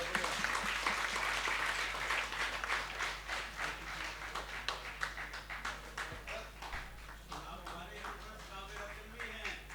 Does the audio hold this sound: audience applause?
yes